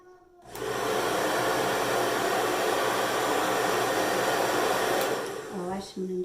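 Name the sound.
hair dryer with diffuser on medium heat, medium speed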